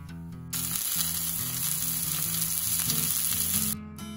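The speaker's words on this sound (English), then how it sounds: "Add the steaks and cook them on one side for 3 minutes." Steaks sear in a hot, unoiled, well-seasoned cast iron skillet, giving a loud, steady sizzle close up that runs several seconds before stopping abruptly.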